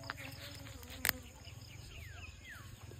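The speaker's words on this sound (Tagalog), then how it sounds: "May bubuyog." A bee buzzes at close range among katuray plants, a steady insect drone broken by one sharp rustle or snap and faint bird chirps in the background.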